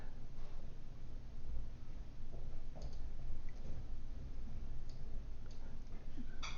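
Mouse clicks in SAP software, several faint, sparse clicks spaced irregularly over a steady hiss of background noise.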